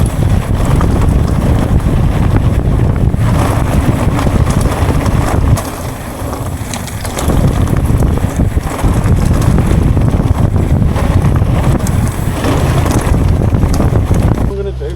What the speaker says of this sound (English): Quite windy still.